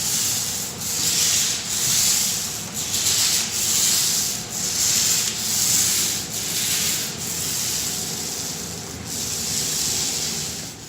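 A paint roller spreads a thick second coat of epoxy floor coating, rolled back and forth in long strokes; a steady wet, rasping roll rises and falls in even passes close by, with no talk.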